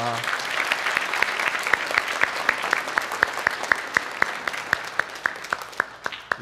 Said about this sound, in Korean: 우리 박수로 환영하도록 하겠습니다.